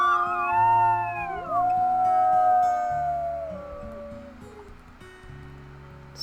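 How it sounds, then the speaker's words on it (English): Several wolves howl together in the video game WolfQuest, long overlapping rising and falling wails fading gradually over a low background music bed. "So let's do some howling"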